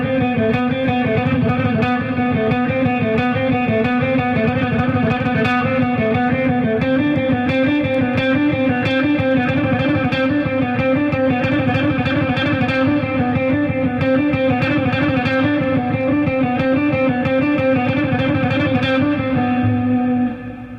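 A heavily distorted electric guitar plays a steady speed exercise with fast, repeated picked notes and a thick, saturated tone. It is loud and continuous for about twenty seconds and fades out at the very end.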